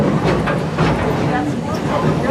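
A Busch Gardens safari train rolls along its track past animal enclosures, a steady rumble and rattle running throughout under a narrator's talking.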